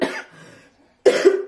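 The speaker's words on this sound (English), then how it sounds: "I still have a little cough to get over." Two bursts of an adult woman's lingering cough, close and fairly loud, separated by a short pause, with no speech around them.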